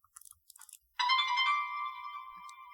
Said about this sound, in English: the phone is ringing, but it's ringing using his internal speaker, not the headphones